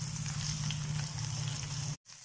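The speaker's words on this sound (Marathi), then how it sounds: "सगळीकडून तेल फोडणी लावून घ्यायची." Small pieces of purple eggplant sizzle in plenty of hot oil, a close and steady crackling fry with no talk that cuts off abruptly near the end.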